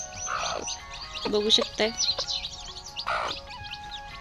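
Small chicken chicks peep and chirp softly while pecking at feed beside the mother hen, short high calls scattered over a quiet yard, with someone speaking over them.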